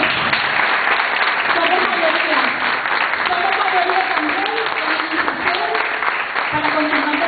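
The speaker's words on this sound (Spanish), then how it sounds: "un aplauso para ellas, pues." An audience applauds a group of women at a workplace gathering, loud continuous clapping with voices calling and chattering underneath throughout.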